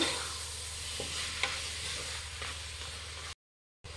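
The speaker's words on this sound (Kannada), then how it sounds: "ಒಂದು 2 ರಿಂದ 3 ನಿಮಿಷ ಫ್ರೈ ಮಾಡಬೇಕಾಗುತ್ತೆ ಎಣ್ಣೆಲೇ ಚಿಕನ್ನ" Chicken fries in oil with chopped tomato for a special biryani, a continuous close sizzle punctuated by a handful of scraping stirs, then a sudden drop to silence before the frying sound briefly returns.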